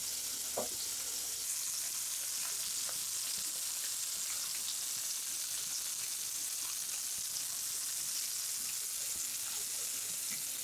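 Small yellow perch fillets fry in a pan, a soft, even sizzle with occasional light pops and crackles, no talking.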